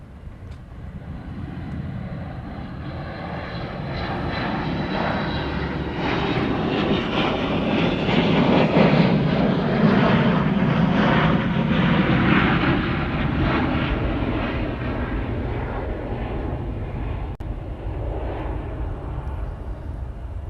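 A heavy jet airliner passes close by at Honolulu airport, its engine roar building to a loud, sustained peak midway and easing slightly toward the end, with no talking over it.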